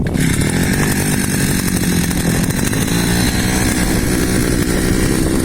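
A small two-stroke petrol brush cutter roars to life on its first start after winter storage and runs loud and steady at high revs, close by, with a buzzing, rattling drone.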